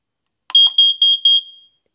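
An ORNO OR-DC-605 carbon monoxide detector in test mode gives a short click, then four loud, piercing beeps in quick, even succession, heard alone.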